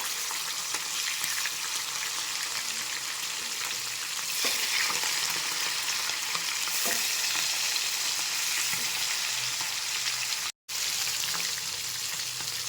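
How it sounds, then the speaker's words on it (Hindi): Marua fish frying in a pan on high flame gives a continuous crackling sizzle, close and fairly loud, with occasional spatters and stirring scrapes through the sound and a brief cut near the end. "हाई फ्लेम रे भाजीबा।"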